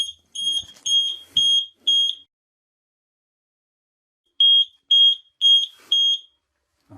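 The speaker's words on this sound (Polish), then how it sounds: "Przedmuchałem, już gazu nie ma, przez to idzie pikać." A gas detector alarm beeps in two bursts of four sharp, high-pitched tones each, separated by a long silence, loud and close.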